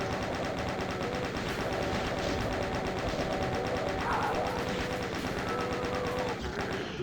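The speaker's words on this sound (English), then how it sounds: "We're not going to really need the chain gun after this room" Chaingun firing in DOOM, a continuous loud stream of rapid rattling shots that hardly lets up, with faint game effects mixed in and no talking.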